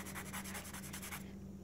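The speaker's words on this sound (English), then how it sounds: "So this is the Kiddycolor pencil" A Kiddycolor colored pencil pressed hard against paper, making a quick run of rhythmic scratchy strokes close up that stop abruptly after a second or so.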